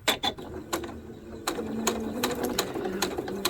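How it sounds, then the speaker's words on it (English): A sewing machine runs close by, stitching half square triangles of fabric along marked lines, with a few sharp starting clicks followed by a steady, rapid mechanical chatter of needle strokes. "So I have marked the sewing lines, so I'm just going to sew on those lines"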